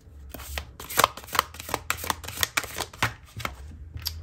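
Oracle cards being shuffled and drawn by hand, a rapid run of crisp riffling slaps and flicks at close range, loud and alone with no voices.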